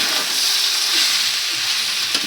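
Chilli frying in a pan gives a steady, close hiss and crackle with faint stirring scrapes and no talking.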